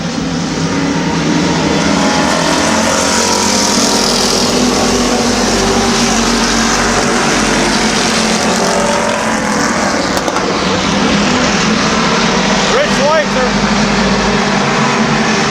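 Race cars lap at Midvale Speedway, a continuous loud roar of engines with shifting whines as cars pass close by, the sound staying steady throughout.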